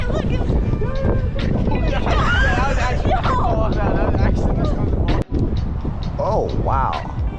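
Heavy wind buffets the microphone with a constant roar outdoors in New York City on Thanksgiving, while people talk loudly over it.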